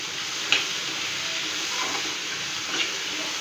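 Finely chopped onions frying in a pan for tomato chutney, a steady close sizzling hiss with a couple of small pops and faint stirring sounds, and no voices.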